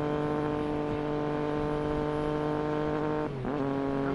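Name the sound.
Triumph Daytona motorcycle engine during a ride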